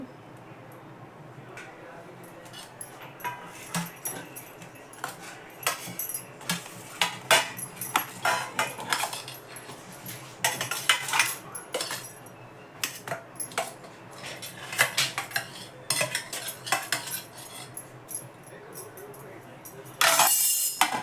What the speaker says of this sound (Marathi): मग आपल्याला हव्या तशा आकाराच्या वड्या कापून घ्यायच्या दुसऱ्या ताटात काढून घेते